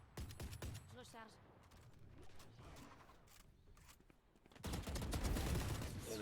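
Vandal rifle fire in the Valorant video game: a burst of sharp shots at the start, then clicking weapon handling, and finally a loud dense stretch of rapid gunfire and action noise, with a voice talking at times.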